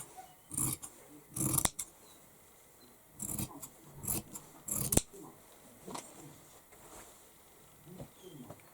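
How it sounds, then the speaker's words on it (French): Scissors snip through fabric while cutting out a face-mask sewing pattern with a seam allowance, giving several short bursts of crisp cutting sounds separated by quiet pauses, close up. "je vais le découper en laissant la marge couture"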